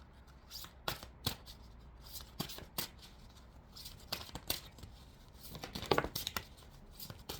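A deck of playing cards being shuffled by hand, with repeated riffling bursts at an uneven rhythm, close and fairly quiet, with no talking.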